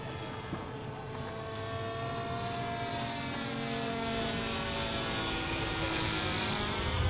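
A competition model plane with contra-rotating propellers drones past, its layered whine sweeping in pitch and slowly growing louder, heard alone without talk.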